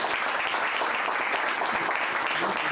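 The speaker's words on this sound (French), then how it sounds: "Merci énormément pour vos différentes applaudissements." Conference audience applauding steadily, a dense, even wash of clapping that holds at a constant level throughout, with no talk over it.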